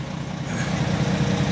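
A Euro 5 Volvo engine idling in a 2014 Volvo B11R Caetano Levante coach, a steady low rumbling drone, close and moderately loud, with no other sounds.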